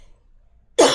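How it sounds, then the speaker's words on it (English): After near silence, a single loud cough bursts out close by at the very end. "I'm not sure where this cough is coming from."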